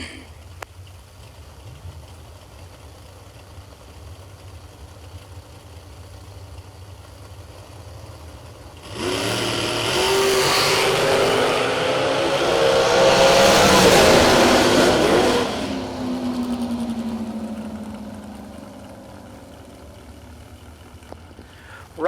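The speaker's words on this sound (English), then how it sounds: "I'm daring somebody else to try and top Chainsaw's Burnout." A drag racing car does a burnout at a drag strip with a loud engine rev and tire roar that swells, peaks for several seconds and fades, heard at a distance over low background noise.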